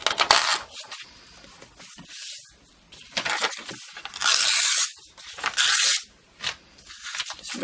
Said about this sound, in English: Rip a couple of them down, and I really like the fluty edge